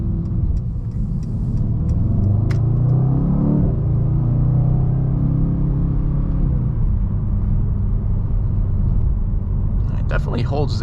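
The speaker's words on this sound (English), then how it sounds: "Have nice little crackles from the exhaust when you let off the gas." A 2018 Mercedes-AMG E63S driven on the road: a deep, steady engine and exhaust rumble with a brief rise in revs partway through, under continuous talking from the driver.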